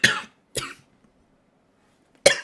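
A person coughs three times in separate short bursts, two close together and one after a pause, fairly close with quiet between.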